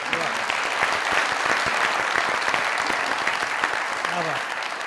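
A studio audience at a comedy talk show gives sustained, dense applause, a close and even roar of clapping lasting throughout with a brief voice near the end.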